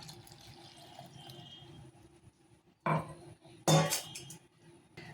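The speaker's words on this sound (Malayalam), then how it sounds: "ഇതിലേക്ക് ഒരു 1/4 കപ്പ് പാലൊഴിക്കാം." A quarter cup of milk is poured into batter for unniyappam made with rava and banana, heard as two short close liquid splashes and clinks over quiet kitchen background.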